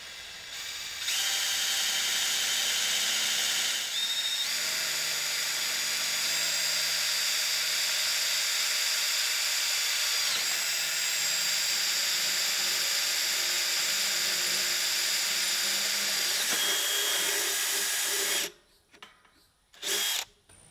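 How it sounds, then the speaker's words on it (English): A power drill whines loudly and steadily as it bores an 11/64-inch hole through a metal mine-gate latch assembly and trigger arm, pitch shifting slightly, then stops abruptly with a few short bursts after. "Drill an 11/64 hole through the latch assembly and trigger arm."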